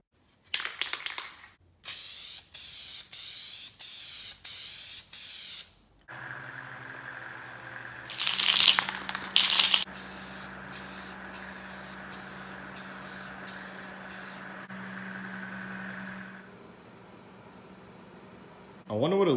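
Repeated bursts of forest green spray paint from a can onto off-road mower headlights, short hissing blasts in rhythmic sequence, with a low steady hum underneath and pauses between runs.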